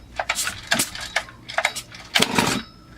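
A Stihl MS440 chainsaw engine, fed carb cleaner down the intake, gives several loud, close, irregular pops and sputters in quick bursts.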